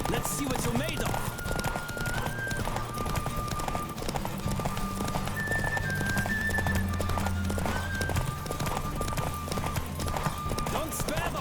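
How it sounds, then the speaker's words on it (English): Horse hooves galloping at speed during a race in The Witcher 3, a rapid continuous clip-clop under a steady musical score, with voices talking over it at times. "Don't spare the horse."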